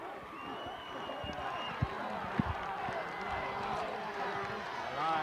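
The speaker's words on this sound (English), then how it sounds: "Valley View crowd much into the game." A high school football crowd at Valley View, cheering and murmuring in a distant, steady roar across the stands, with a couple of sharp thumps and an announcer's voice talking over it.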